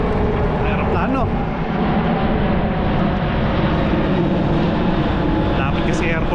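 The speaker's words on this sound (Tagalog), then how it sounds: "Aeroplano." An airplane passes overhead outdoors, a loud, steady engine roar that dominates the whole stretch, with a faint distant voice or two underneath.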